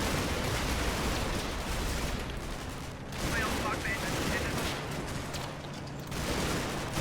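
Heavy combat gunfire in the WWII Normandy hedgerow game Combat Mission: Battle for Normandy, with a Sherman tank under fire: a sustained wash of crackling shots and rumbling blasts, with the noise swelling in a few waves.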